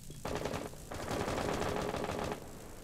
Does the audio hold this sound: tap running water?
no